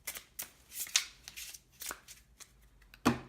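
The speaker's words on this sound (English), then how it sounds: "So next you can put the disease cards on top and just shuffle them in." Disease cards from a board game being shuffled into a deck by hand, a quiet, close series of soft riffling and snapping card bursts in an irregular rhythm, without talk.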